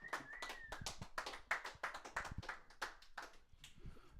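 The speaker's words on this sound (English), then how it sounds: "I need another round of applause for our next special guest" Sparse, quiet handclaps and taps from a tiny audience greeting a special guest on a small show, irregular individual claps with faint background noise and no talk.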